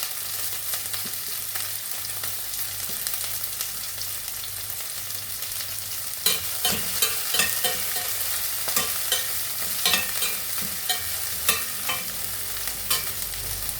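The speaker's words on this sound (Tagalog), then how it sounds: "Then let's put the garlic and onion together, and we will saute it." Garlic and onion saute in a hot pan, giving a continuous sizzle broken by repeated scraping and stirring clicks that grow busier partway through; no voices.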